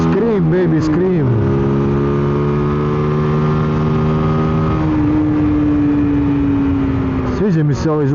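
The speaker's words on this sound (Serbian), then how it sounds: "Sviđa mi se ovaj zvuk koji ovaj motor ima," A Zontes G1 Scrambler motorcycle engine revs loudly up and down, with sharp throttle blips at the start and end framing a long sustained high rev, close and continuous.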